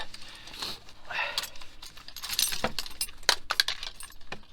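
Car keys for a rusty Fox-body Ford Mustang jangle and clink as they are pulled from the ignition, with a close run of bright metallic rattles that peaks in a few sharp chinks.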